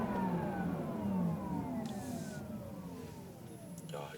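Porsche Taycan electric car with its artificial driving sound switched on, driven in its most dynamic mode: a synthetic whirring tone sweeps and glides steadily inside the cabin over road rumble, with faint talk nearby.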